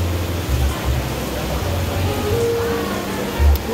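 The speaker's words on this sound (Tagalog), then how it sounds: "Lakas ng ulan." Heavy rain pours steadily on a surface during an evening birthday gathering at home, a dense, continuous hiss with a few low rumbling thumps, one stronger near the end, and no voices.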